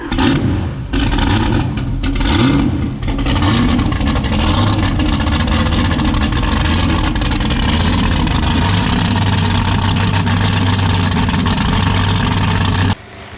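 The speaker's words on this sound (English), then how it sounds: "We're running the engine up to set the timing, get that correct and do other checks." The supercharged V8 of an offshore racing powerboat runs up hard and close, a loud, rough, steady roar with slight surges that carries on until the engine cuts off abruptly near the end.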